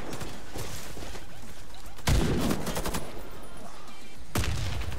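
Rapid bursts of gunfire in the video game Warface crackle continuously during a team deathmatch on the Hangar map, with two heavier booming USAS-12 shotgun shots punctuating the barrage.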